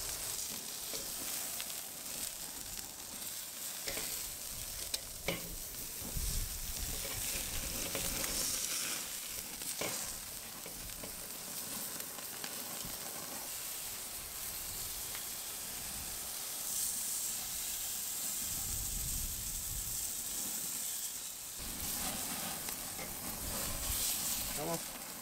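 Lamb fat sizzles and crackles on a charcoal grill, a steady close frying hiss that runs throughout with occasional sharper pops, while people talk faintly in the background.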